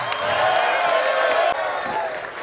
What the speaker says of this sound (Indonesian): Tepuk tangan untuk Kapolresta.